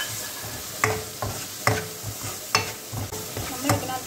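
Green chillies dropped into a hot pan for tomato rasam, with a steady soft sizzle and repeated sharp scraping stirs of a spoon against the pan, close and fairly quiet, no voices.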